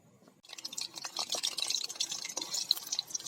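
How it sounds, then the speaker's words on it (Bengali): Cooking oil poured into a wok for egg khichuri: after a short quiet start, a steady soft splashing hiss with small drips runs on, fairly faint and close, with no voices. "কড়াইতে দিয়ে দিব তেল।"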